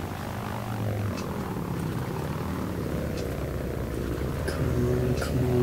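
A propeller aircraft engine in Battlefield 1943, on the Coral Sea map, drones steadily and swells louder toward the end as the throttle opens, with faint clicks scattered over the continuous hum.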